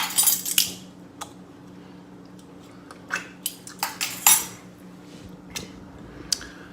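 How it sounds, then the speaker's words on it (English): A whisk clinks and taps against a bowl while mixing an olive oil and balsamic vinegar dressing, with short scattered metallic ticks and a few quick rattling flurries, fairly close and quiet. "Give another little whisk here"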